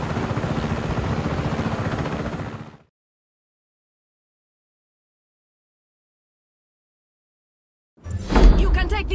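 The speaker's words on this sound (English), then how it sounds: "You can take this chopper, Frotre." A helicopter in the video game Just Cause 3 gives a steady whirring rotor drone for about three seconds and then cuts to silence, and a louder rumbling burst returns at the end.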